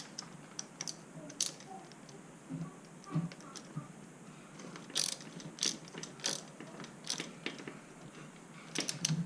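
Ratchet wrench tightening bolts on BMX bottom bracket cranks, giving quick clicking bursts with short pauses between them, close and fairly quiet, with a faint background hiss and no voices.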